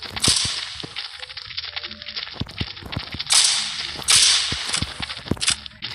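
Sharp gunshots crack in an irregular series, some spaced apart and some in quick pairs, over bursts of hissing noise.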